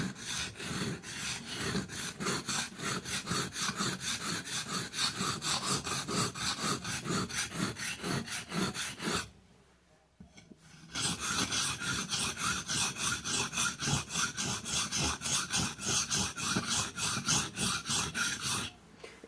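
A knife is sharpened on a whetstone with rapid, regular back-and-forth rasping strokes, close and steady, pausing briefly for about a second before the strokes resume at the same pace.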